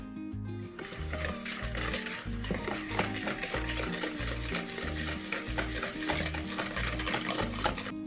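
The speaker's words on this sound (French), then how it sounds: "On va venir fouetter avec 100 g de sucre cette compote." Applesauce whisked with sugar in a bowl for vegan, gluten-free chocolate-hazelnut cookie dough: a steady scraping and stirring sound running throughout, under a rhythmic music bed with a pulsing bass.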